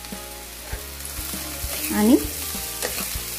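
Bitter gourd sabzi mixed with coarsely crushed peanuts sizzles steadily in a pan while a spoon scrapes and taps in a regular stirring rhythm, close and clear, with one brief spoken word.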